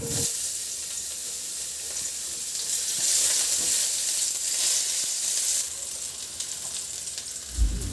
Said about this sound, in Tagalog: Magpainit na rin ako ng mantika at igisa ko na yung bawang.